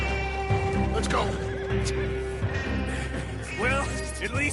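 Horses whinny and neigh loudly during an Old West gunfight in Red Dead Redemption 2, several sharp calls rising over clopping hooves and background clatter, with voices talking at points.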